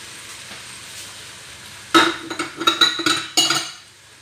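Cleaned chicken gizzard is stirred into masala in a pan. A quiet low hiss gives way to a run of close scraping and clinking strokes that arrive in quick uneven bursts over the last couple of seconds.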